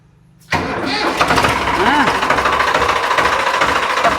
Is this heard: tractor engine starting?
yes